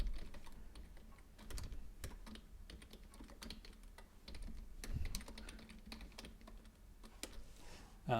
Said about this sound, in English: I'll type it in here so you can see what I mean